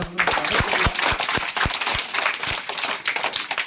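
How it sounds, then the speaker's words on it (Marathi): Loud, dense applause from a school audience at a Marathi school event distributing school supplies, with sharp individual claps layered into a steady roar of many hands throughout. "जोरदार टाळ्या वाजून आपण"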